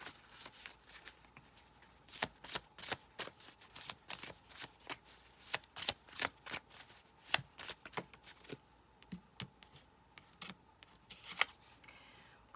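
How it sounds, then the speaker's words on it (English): Tarot cards being shuffled by hand, a quick series of crisp riffling snaps close up, in irregular bursts with short pauses and no talking. "shuffle again"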